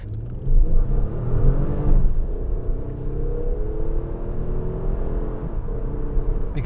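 A Lexus ES 350 F-Sport with a 3.5-liter V6 accelerates in a deep, steady engine rumble. The revs climb smoothly as the sound builds, loud and close, with no talking.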